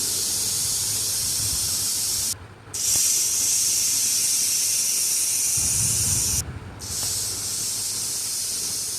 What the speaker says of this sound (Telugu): విజిల్ పెట్టుకోవాలి. 4 to 5 విజిల్స్ వచ్చే వరకు ఉడికించుకోవాలి.